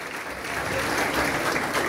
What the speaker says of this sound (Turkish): şimdi mikrofonu ama kocaman alkışlarınızla başkanıma takdim etmek istiyorum